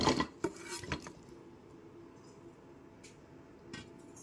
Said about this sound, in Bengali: টুকরোগুলো কড়াইতে দিয়ে দিচ্ছি।